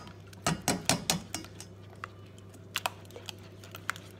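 Eggs are cracked into a bowl in a home kitchen while making sticky ginger cake: a burst of sharp taps and clinks, then scattered lighter ticks and knocks, close and fairly quiet.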